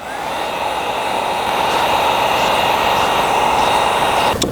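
A heat gun blows hot air across tint film on a Honda CR-V taillight, a loud, steady whooshing roar held close for several seconds before cutting off sharply near the end.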